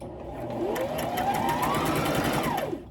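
A Brother XM2701 sewing machine stitches in one continuous close, whirring run of about three seconds, its motor pitch rising and falling slightly before stopping.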